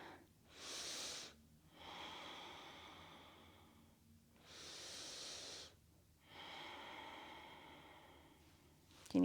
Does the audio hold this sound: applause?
no